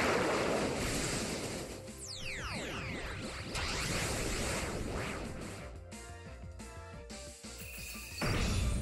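Super Wassertornado Z-move water attack in Pokémon Moon, a loud roaring surge of rushing water and wind with swooping whooshes and crashing waves, sustained throughout before shifting to a bright game tone at the end.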